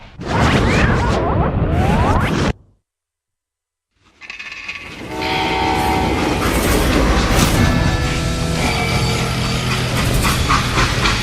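A loud mechanical rumble and clatter of a freight train in the video game Call of Juarez: Gunslinger, cut by a brief silence, then a steady rattling roar with metallic squeals continuing close by.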